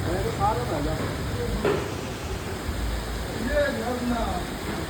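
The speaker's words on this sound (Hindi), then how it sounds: "लुक एट दिस झरना" Waterfall at a flood-damaged scenic spot in Dehradun, a steady broadband rushing roar that fills the background without pause, with faint voices now and then.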